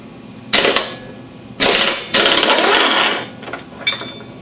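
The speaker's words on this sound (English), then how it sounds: "you gotta have our impact wrench. Make sure it's in the reverse position to take this off." An impact wrench with a 15/16 socket, running in reverse, hammers off a lawn mower flywheel nut in several short loud rattling bursts separated by pauses, close by.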